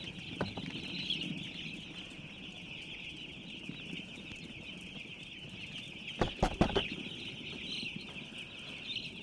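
Chickens clucking close by in a small poultry shed with a curtain opened, soft scattered clucks over a steady background hum, with a few sharper bursts and wing flaps partway through.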